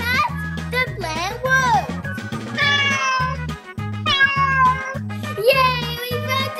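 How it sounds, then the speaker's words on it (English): A cat meows repeatedly, several rising and falling cries close by, over a bouncy music track with a regular beat from a children's cartoon. "Hey, there's the cat!"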